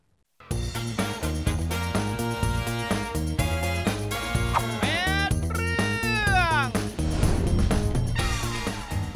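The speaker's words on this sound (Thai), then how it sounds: "แมวเพศผู้ อายุ 3 ปีตัวนี้ พลัดหลง" A three-year-old male cat meows repeatedly, loud and close, with drawn-out, wavering cries following one another almost without pause, set against a music bed.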